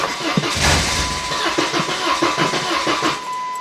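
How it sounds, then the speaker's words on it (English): A 2001 Saturn SC2 engine cranks, catches and runs briefly at a rough idle, loud and close, with no talking over it. "I'm going to start the engine and run it until it stalls"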